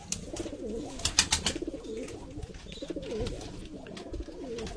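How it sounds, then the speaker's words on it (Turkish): Urfa pigeons coo in repeated rolling phrases close by, with a few sharp flutters or clicks early on and no voices. "Bunlar da yine Urfa kuşu."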